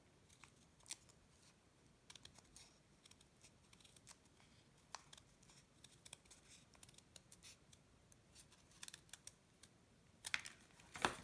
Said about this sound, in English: then we're going to cut around it here